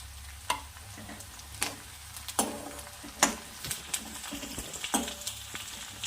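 Small pieces of garlic and curry leaves sizzle and fry steadily in a pan, with occasional stirring clinks and scrapes at close range and no talking.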